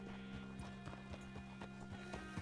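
Steady clip-clop of horse hooves at a trot in the Red Dead Redemption video game, regular rhythmic thuds over a constant low background hum.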